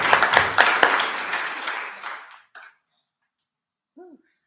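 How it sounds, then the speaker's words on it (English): A room of attendees at a morning home-loan Q&A gives a round of applause for a presenter: a lively burst of clapping that fades out after a couple of seconds, then quiet with a brief faint squeak. "Let's give her a round of applause."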